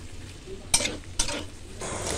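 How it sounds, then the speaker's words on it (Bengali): Potatoes and pointed gourd are stirred in a hot pan while making a Bengali chal potol dish, giving soft sizzling and frying with a couple of sharp utensil scrapes against the pan. "এবার আলু পটলগুলো দিয়ে ভালো করে নাড়াচাড়া করব"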